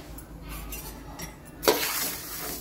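Coriander seeds dry-roasting over a low flame in a home kitchen pan, with a soft scraping stir and faint crackle that swells into a louder, rougher rustle partway through; no voices.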